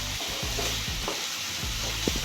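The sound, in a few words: onions frying in oil with salt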